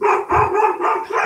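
Two collie dogs bark close and loud, with several quick overlapping barks packed into about a second and no talking.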